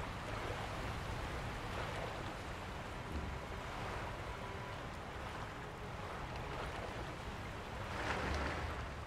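Continuous water wash and gentle splashing of a character swimming in Sekiro: Shadows Die Twice, a soft, steady rushing surf-like bed with slight swells, no voices.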